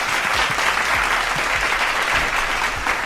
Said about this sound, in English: y'all clap it up for the OG